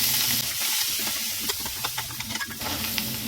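Green chilies fry in a pan with a loud, steady sizzle and hiss, close by, with a few light stirring clicks near the end.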